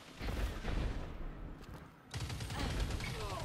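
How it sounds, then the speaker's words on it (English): Auto rifle gunfire in a sci-fi shooter squad match, dense rapid bursts with a short lull midway before firing resumes, loud and close. "Auto rifle's so good."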